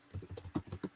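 Quick run of computer keyboard keystrokes, about eight crisp clicks in uneven rhythm, close and fairly quiet, with no talking.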